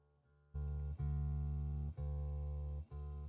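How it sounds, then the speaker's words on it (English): An electric guitar being tuned before a live set, with one low string plucked and ringing out loud and sustained, repeated in three or four strokes with short gaps between. "Ooh, I'm going to tune my guitar first."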